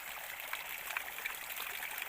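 Spring water trickles in from the fields in the Himachal hills, a faint, continuous babble with small bright splashes, close by and alone with no voices.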